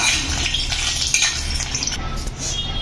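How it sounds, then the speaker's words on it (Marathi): Whole dried red chillies frying in hot oil, a steady close sizzle with a few light clinks of a utensil against the pan, no voices. "अख्ख्या मिरच्या आपल्याला या तेलामध्ये छान अशा फ्राय करून घ्यायच्या आहे"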